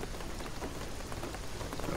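Rain in the video game Shadow of the Tomb Raider pours down as a dense, steady hiss of drops striking surfaces, fairly quiet and unbroken for two seconds with no voices.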